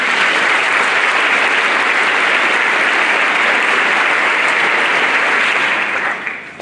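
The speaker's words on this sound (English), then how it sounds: "I think your families are in need of an applause as well." A large audience at a high school honor society ceremony applauds the students' families, a loud, dense, sustained wash of clapping that holds steady before tapering off at the very end.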